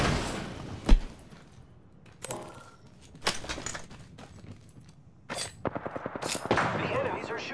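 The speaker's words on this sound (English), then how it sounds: "The enemies are shooting at me." Gunfire in a shooter video game with enemy fire, ziplines and shields: sharp single shots, rapid automatic bursts and impacts scattered throughout, with clipped game voice lines underneath.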